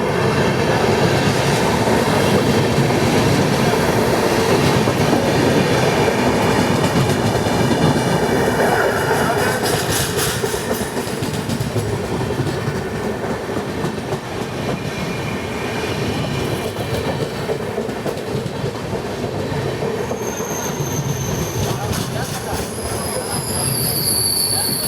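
The MGR Chennai Central–Howrah Mail Express rolls past at close range, a loud, continuous roar of railcars with wheel squeal and rhythmic clatter over the track that holds steady throughout, with high metallic screeching rising near the end.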